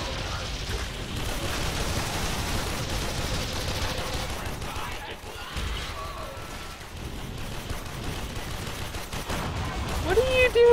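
Heavy, continuous gunfire and bursts of automatic weapons in the video game Warframe, with occasional booms and mechanical clanks. Players talk over the barrage.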